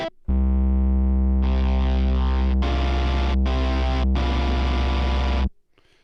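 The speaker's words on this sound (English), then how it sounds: "We'll take out the distortion." A Torero organ app for iOS, a replica of a vintage 1970s organ, plays loud sustained chords through a distortion effect. Several held notes shift and cut in and out before stopping abruptly.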